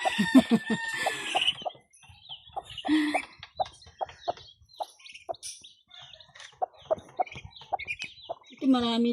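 Chickens cluck and newly hatched chicks peep on a small farm, close and steady, with a rooster-like call at the end; a person talks over them at the start.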